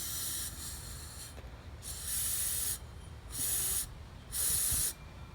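Air blown in short puffs into a Shovelhead carburetor fuel inlet, three or four close breathy hisses of about a second each, separated by brief pauses over faint background noise.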